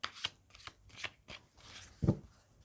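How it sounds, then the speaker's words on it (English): Tarot cards are shuffled by hand in quick riffling bursts, close and crisp, followed by a heavier thump as the deck is squared. "let's shuffle the cards and see what the cards have to say for you for the week"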